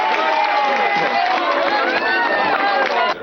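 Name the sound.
convention crowd applauding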